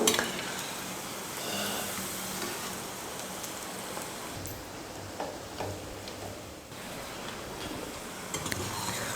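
A potato snack sizzles steadily in a pan while being stirred, with scattered ticks and scrapes from the utensil over a continuous frying hiss; no voices.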